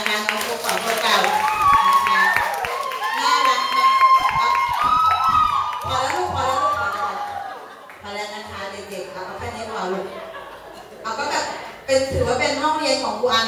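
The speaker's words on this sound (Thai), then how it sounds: "ขอเสียงปรบมือดังๆให้กับ ฟุกพัชระธรรมมน" Party guests clap and cheer at a birthday celebration, a dense, lively crowd noise running steadily throughout, with shouts and voices mixed in and a short lull before a fresh burst near the end.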